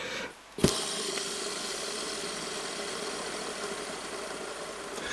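An Abu 7500 CT C3 baitcasting reel spool, fitted with a PMR SuperMag magnet brake and hybrid ceramic bearings, spins freely with a steady whirring hum after a brief click at release, continuing evenly and close by without any voices.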